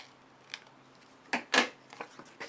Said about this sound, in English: I'm just going to take my scissors and trim this off